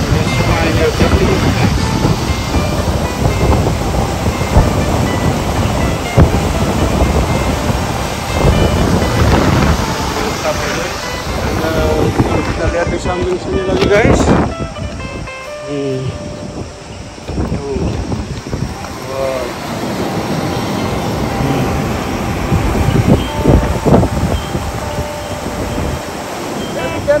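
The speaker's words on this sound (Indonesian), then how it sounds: "Tuh, lihat air terjunnya, guys" Waterfall on the River Dee at Mar Lodge Estate, Braemar, Aberdeenshire, seen from a bridge over clear water: a steady, loud roar of rushing water fills the whole stretch, with a brief dip midway and someone talking over it.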